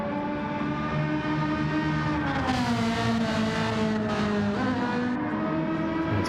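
Ferrari race car engine in a racing video game, revving hard on the Dragon Trail Gardens track with a loud, continuous high-pitched whine that shifts pitch through gear changes, heard alone without talk.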